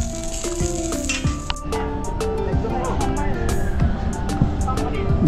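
Ghee spooned over food on a homemade outdoor barbecue, hissing and sizzling close by with scattered clinks of utensils, while someone talks over much of it.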